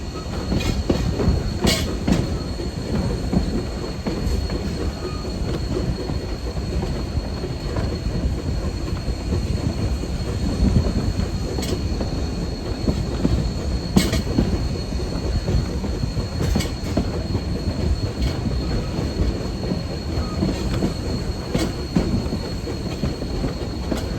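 A 1920 steam train, engine 152 on the Huckleberry Railroad, rumbles steadily along the rails, wheels clattering with occasional sharp squeals and clicks, loud and close throughout, with no voices.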